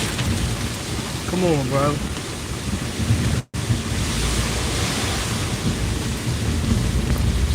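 Hard, heavy rain pours steadily outdoors on a street as a dense, continuous hiss, with a voice speaking briefly under it.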